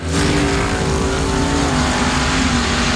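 A loud, steady roar of powerful dragster-like engines at sand drag racing fills the whole stretch, dense and continuous with no voices.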